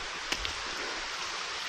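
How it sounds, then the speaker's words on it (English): Chain Mill Falls in Hanover, Indiana, a continuous broadband rush of falling water heard steadily and fairly evenly throughout, with a couple of faint small knocks early on and no voices. "There's that waterfall again."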